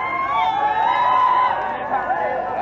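A crowd shouts and cheers at a nighttime Saudi National Day celebration on the Corniche in Al Khobar, where people are dancing. Many voices blend into a steady, lively din throughout.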